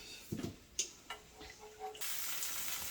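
Pieces of butter for a steak au poivre sauce drop into a hot pan with soft clicks and scrapes, then a steady sizzle rises and holds at close range.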